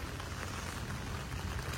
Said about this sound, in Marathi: पाऊस काय नाही थांबत आहे मगासपासून